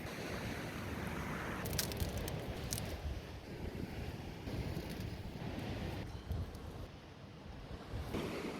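Steady wind of about 20 knots from the west rushes and buffets over open sea around Stewart Island, mixed with the wash of waves, continuous and fairly faint.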